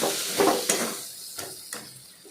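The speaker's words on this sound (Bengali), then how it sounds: "জিরের গুঁড়ো দিয়ে ভালো করে নাড়াচাড়া করবেন" Spices with cumin powder are stirred in a pan, giving several short scraping strokes that fade over a light sizzle, close up and without voices.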